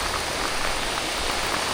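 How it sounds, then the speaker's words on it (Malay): Rain pours steadily on Pulau Sialu, an island, making a loud, even hiss that fills the whole stretch without a break. "Kalau hujan ni setakat sekejap je, mungkin aku sambung."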